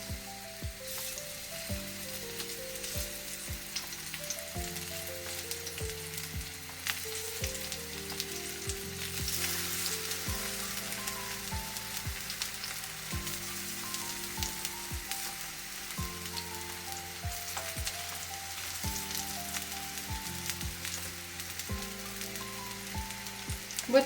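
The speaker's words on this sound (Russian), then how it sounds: "Раскладываю баклажанчики на сковородку и обжариваю с двух сторон." Eggplant slices sizzle and crackle steadily as they fry on both sides in a pan, while soft music plays over the frying throughout.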